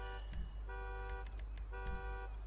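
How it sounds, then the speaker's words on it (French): A GTA 5 car alarm repeats a buzzing tone in regular pulses with brief honks between, heard from a moderate distance over low street rumble. "Oh mince, j'ai déclenché l'alarme"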